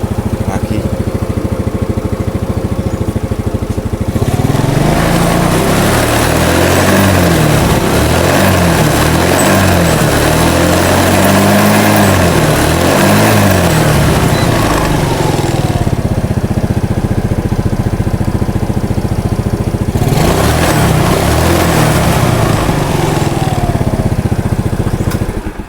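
A motorcycle engine with a weak charging system cranks and starts, then runs at a steady, loud idle close by for about twenty seconds with a few revs, dying out near the end.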